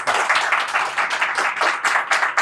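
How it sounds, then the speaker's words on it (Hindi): Audience applause fills a talk-show setting, a steady dense wash of many hands clapping together with slight pulsing swells and no voices over it. "एक बार तालियां हो जाए यार।"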